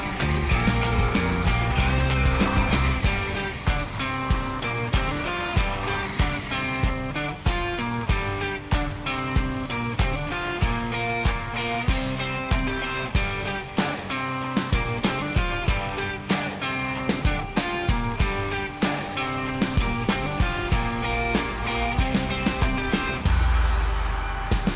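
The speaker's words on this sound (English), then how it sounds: "Wow, look at the speed of that clockwork motor." A Marx clockwork toy engine runs along metal rails, giving a steady fast mechanical whir and rattle with dense ticking clicks that continue loudly for the whole stretch, with no talking.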